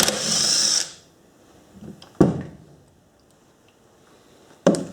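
A power tool whirs for about a second while spinning bolts out of a post hole drill's gearbox housing, followed by quiet clicks, metallic taps and a couple of sharp knocks.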